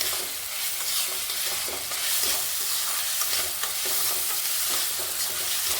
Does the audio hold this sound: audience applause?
no